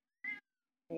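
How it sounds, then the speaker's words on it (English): A pet cat meowing close by, two short distinct meows separated by silence. "My cat is looking at me. It's meow meow meow."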